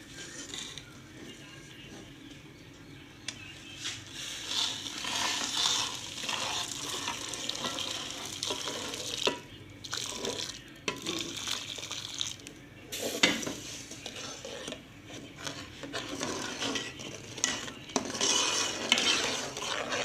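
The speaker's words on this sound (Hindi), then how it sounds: "हमने चाशनी डालनी है उस सूजी के अंदर" Sugar syrup is poured into semolina in a pan and stirred for halwa, giving a continuous sizzling hiss with scraping spoon strokes and occasional clinks against the pan, close and fairly loud.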